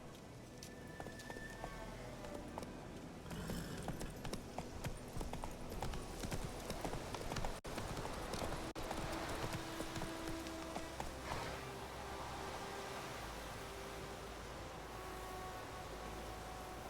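A horse's hooves clip-clop steadily in The Witcher 3 video game, a faint, continuous patter of footfalls under a dense bed of ambient game noise resembling rain.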